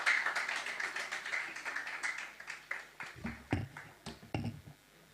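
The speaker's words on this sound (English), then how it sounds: "A round of applause for her." Scattered claps and taps ring out in an irregular patter, thinning toward the end, a small audience at a launch event applauding briefly.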